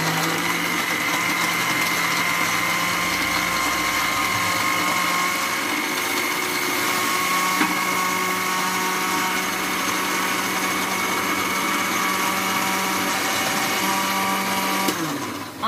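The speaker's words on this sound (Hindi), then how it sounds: "ये मिक्सर पीस रही हूँ।" An electric mixer grinder runs steadily for the whole stretch, grinding ingredients in a home kitchen while potato and egg curry is being made. It gives a loud, continuous high-pitched whir with no talking over it.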